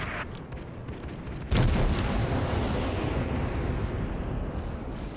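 St. Louis ship guns fire in World of Warships: a heavy booming salvo hits abruptly partway through and leaves a long rumbling decay.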